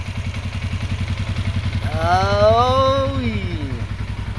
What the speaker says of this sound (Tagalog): Katahimik na makina, parang hindi maandar ah.